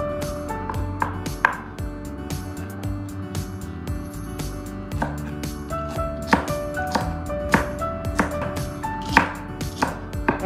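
A knife chops long beans repeatedly on a cutting board in quick, uneven taps, close and crisp, with faint background tones behind it.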